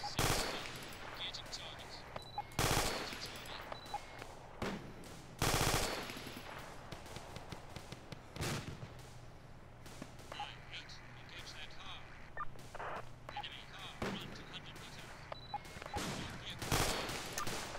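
Suppressive gunfire rattles in the ArmA 2: BAF military shooter game: several loud machine-gun bursts and scattered shots, some sharp and close, others thinner, with gaps between volleys.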